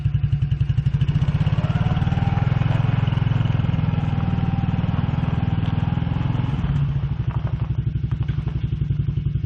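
A Suzuki King Quad 300 ATV engine runs in super low reverse gear, a loud, close, steady thumping single-cylinder putter with clattering mechanical noise that continues alone for the whole stretch.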